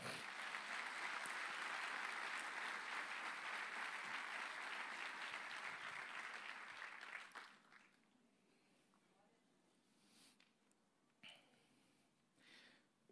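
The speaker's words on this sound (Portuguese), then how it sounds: "Vamos aplaudir o Senhor por isso?" A church congregation applauds during a sermon. Dense, steady clapping fills the first seven seconds, then cuts off sharply, leaving near silence with a few faint bumps.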